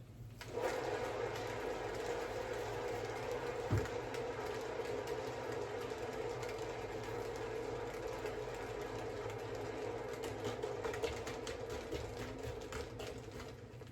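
Spin art machine whirling a heavily painted canvas, a steady motorized hum that runs continuously with a faint rattle and a brief knock partway through.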